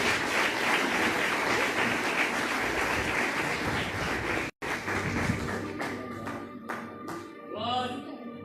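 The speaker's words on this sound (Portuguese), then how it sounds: "Palmas de vitória para Jesus." Church congregation clapping in applause during a family service, steady and full for several seconds, then thinning into a few scattered louder claps with faint voices toward the end.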